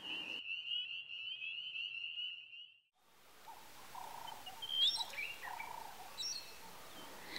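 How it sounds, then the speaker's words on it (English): Night in the African bush at a Kenyan safari camp in the Masai Mara: a steady, shrill frog trill drops out, then quieter scattered chirps and croaks of frogs and birds rise over a soft hum, some distant. "Fall asleep to the sound of the African bush."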